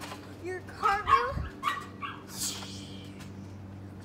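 A dog indoors at home whimpers and lets out a few short barks and yips, close and fairly loud at first, then fades to quieter whines.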